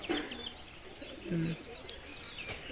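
A pet pigeon coos softly in a few short, low throaty calls close by, with faint chirps and background noise around it.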